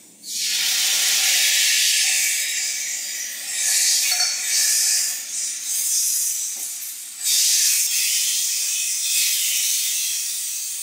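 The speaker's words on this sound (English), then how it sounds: "Add the chopped tomatoes." Chopped tomatoes dropped into a pan of golden-browned onion with coriander powder, giving a loud, steady, close hiss of sizzling steam that rises sharply at the start, dips briefly and swells again, with no voices.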